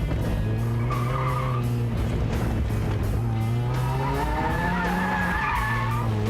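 A car drifting through a tight section, engine revving loud and continuous with long wavering tire squeals layered over the roar, close and intense throughout.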